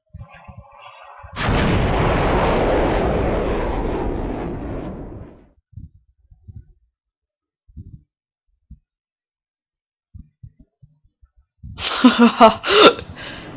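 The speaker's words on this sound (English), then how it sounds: "Let's get flying and shoot this. This is the anti-gravitational missile" An anti-gravitational missile in the Voltz Minecraft mod launches with a sudden loud roaring whoosh that sustains for several seconds and fades, followed by scattered small clicks and a burst of crackling noise at the end.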